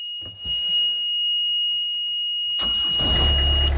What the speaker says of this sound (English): let's see if the engine runs.